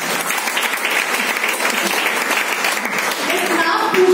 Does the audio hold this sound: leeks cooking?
no